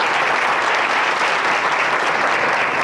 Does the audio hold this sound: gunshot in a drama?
no